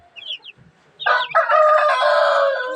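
Basilan chickens and chicks, a few short clucks and peeps followed by a loud, close rooster crow that holds steady to the end.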